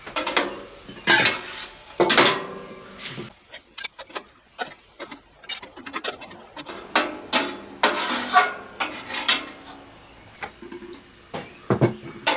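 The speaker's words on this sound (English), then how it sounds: "Let's scoop off some of these hash browns." A metal spatula scrapes and scoops hash browns off a Weber grill converted into a griddle, giving repeated clanks and scrapes in irregular bursts, loud and close, with short pauses between strokes.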